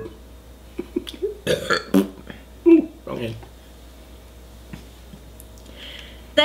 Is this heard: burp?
yes